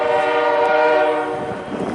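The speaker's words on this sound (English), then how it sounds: "Train is howling, blowing its whistle." A northbound train sounds a loud, sustained horn with steady chord-like tones at moderate distance, fading slightly toward the end as rumbling and rail noise rise beneath it.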